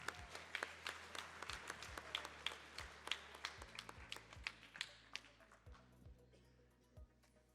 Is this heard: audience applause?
yes